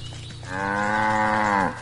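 A cow in the video game Wytchwood lets out a single long, loud moo that starts after a brief pause and holds steady for over a second before cutting off.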